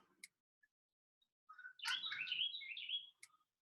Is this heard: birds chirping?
yes